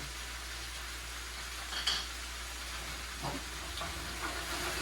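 Garlic, shallots and mushrooms cooking down in a pan, a steady soft hiss and sizzle throughout with a couple of faint clinks of stirring, no voices.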